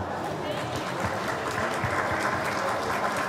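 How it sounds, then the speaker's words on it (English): A large crowd at the 2018 Fulton County All Sports Hall of Fame induction ceremony gives inductees a sustained round of applause, dense and even from start to end, with voices mixed into it. "We want to give them one more round of applause."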